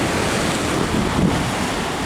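Huge surf on Hawaii's North Shore crashing in a loud, steady wash of water, heavily mixed with wind buffeting a close action-camera microphone.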